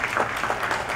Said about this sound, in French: ça mérite un applaudissement vraiment